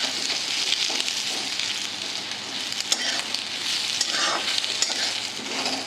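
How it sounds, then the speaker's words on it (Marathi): Sweet potato slices sizzle steadily in a pan while a spoon scrapes and turns them now and then, making a continuous frying hiss close up with no voices. "आता आपले काप चांगले परतून झालेले आहे।"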